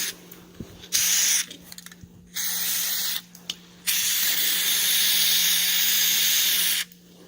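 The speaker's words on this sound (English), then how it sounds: "you want to spray that thing with the wax formula." Several loud bursts of wax lubricant aerosol spray hiss close by onto a tailgate latch, short at first, then one long continuous spray, separated by quiet pauses.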